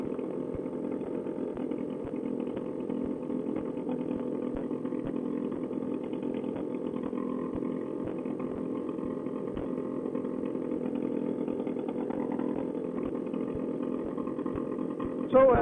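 A paramotor trike engine idles with its exhaust disconnected, a constant rough mid-pitched drone that holds steady throughout and swells slightly at the very end.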